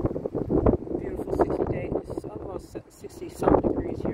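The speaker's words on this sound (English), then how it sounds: "Some degrees here, kind of breezy, windy" Gusty wind buffets the microphone in uneven bursts, rumbling and roaring close up, with a person talking intermittently over it.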